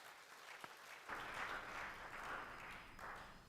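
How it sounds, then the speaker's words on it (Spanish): A church congregation breaks into sustained applause during a bilingual Spanish and Portuguese worship service, starting after a brief quiet lead-in and continuing as a dense, steady wash of clapping that swells and eases. "denle un aplauso al Señor"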